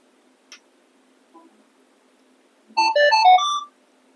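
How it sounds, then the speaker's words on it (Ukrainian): An X-Terra Pro metal detector sounds a short melodic multi-tone chime after a firmware update, a quick bright run of beeps preceded by a couple of faint ticks in near silence. "прилад видав сигнал"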